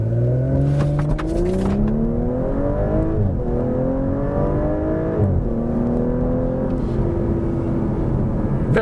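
A 2020 Audi S4 accelerating hard, its engine note climbing smoothly through several gear changes in a repeated rising sweep, loud and steady from inside the car.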